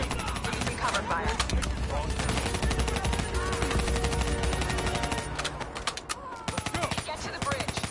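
Dense, loud gunfire from automatic weapons rattles almost continuously in a GTA 5 video game firefight, with voices partly buried under the shots.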